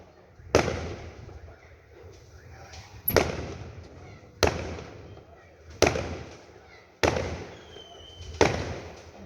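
Fireworks in a large display burst at intervals, each sharp boom followed by a decaying crackle and rumble, about six explosions at moderate distance with no talk over them.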